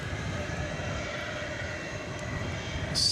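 A Boeing 777-200ER jet departing from an airport at night produces a loud, steady engine roar with a low rumble, swelling slightly toward the end.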